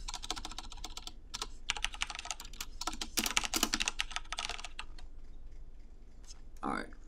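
Fast typing on a computer keyboard, rapid close clatter of keys in dense bursts with brief pauses, quieter toward the end where a short voice sound appears.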